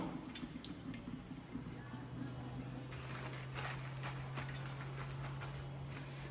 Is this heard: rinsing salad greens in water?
yes